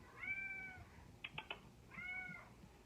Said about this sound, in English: my cats are giving me issues because they want me to hold them